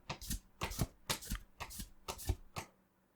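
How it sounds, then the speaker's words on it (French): Pokémon trading cards from a Destiny Rivals booster pack being pulled and slid out, a quick run of seven or eight crisp papery flicks and riffles in an uneven rhythm, close and fairly loud, with no voices. "J'arrive pas à sortir les cartes du pack."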